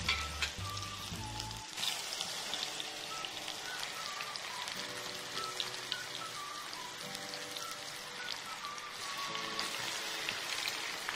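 Raw banana slices dropped into hot oil for chips, crackling and sizzling steadily with dense rain-like patter throughout, fairly close, with no talking.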